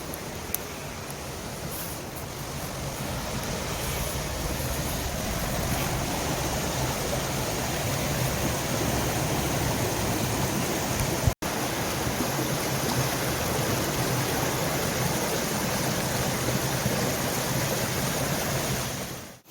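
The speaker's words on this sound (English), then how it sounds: "There's the waterfall." A waterfall in British Columbia roars as a steady, dense wash of falling water, close and loud throughout with no voices.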